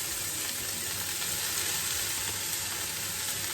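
Cabbage sizzles steadily in a hot pan, a continuous close frying crackle with faint stirring and no talk.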